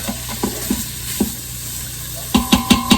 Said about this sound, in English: let me just show you this sauteing up in here before I take it out